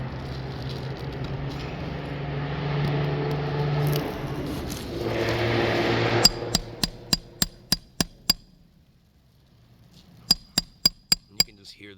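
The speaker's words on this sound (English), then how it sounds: "Hear the granule loss occurring just every blow of his hammer." A hammer strikes roofing nails while pulling them from asphalt shingles: a quick series of eight sharp metallic blows, a short pause, then four more, close and loud after a stretch of background rumble.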